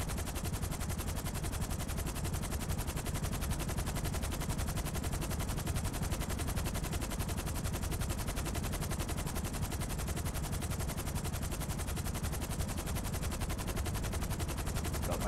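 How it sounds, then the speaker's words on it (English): The combat MG in Grand Theft Auto V fires in one long unbroken burst, a dense, loud, rapid stream of gunshots with no pauses across the whole stretch. "I've got the combat MG."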